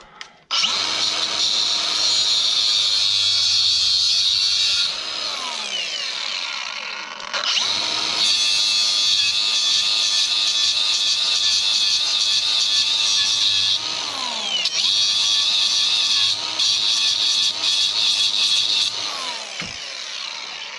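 A Dremel rotary tool fitted with a cutting bit, used on an emergency brake cable, whines loudly and continuously in long bursts, briefly dipping and changing pitch between passes as it bites into the material.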